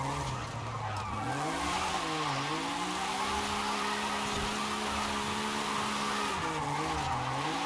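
Small low-horsepower car drifting on the Goldentogue course in Forza Horizon, a sustained loud tire squeal with wavering pitch and engine drone running almost unbroken through the run, no talking.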